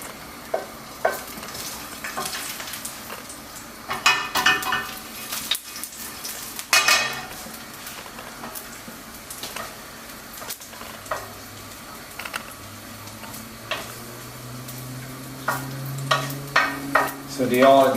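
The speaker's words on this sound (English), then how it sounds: "Let it sizzle a little bit, and then we put the tomato." Garlic sizzles in olive oil in a frying pan as the base for eggplant parmigiana, a steady close crackle broken by scraping stirs and occasional clinks of a utensil against the pan.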